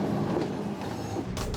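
Subway train rolling along its rails past the electrified third rail, a steady dense rumble with a brighter burst of wheel noise near the end, no talk.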